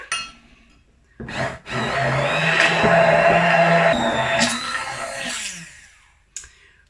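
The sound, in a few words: stick blender blending sauce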